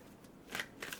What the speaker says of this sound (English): Let me shuffle and pull the third card.